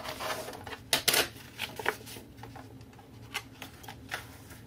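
Scissors snip through paper for a scrap collage, a few crisp close cuts spaced unevenly across a quiet room.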